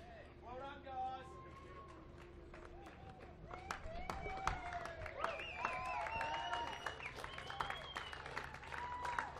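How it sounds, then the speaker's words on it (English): Spectators on the dock applaud as the line honours winner of the Rolex Sydney Hobart Yacht Race arrives. Scattered shouts come first, then dense clapping and cheering build and hold, heard from some distance. "We'll just listen to the applause that awaits this mighty boat and mighty crew."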